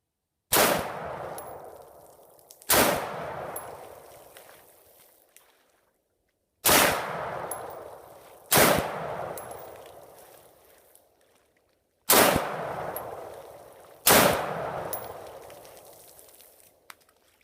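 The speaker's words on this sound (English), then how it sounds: "We'll test fire this in the standard operation mode" Six loud, sharp shots from an AR-15 short-barrel rifle fitted with a LAW Tactical folding stock adapter, fired one at a time in pairs with pauses between them, each crack followed by a long decaying echo outdoors.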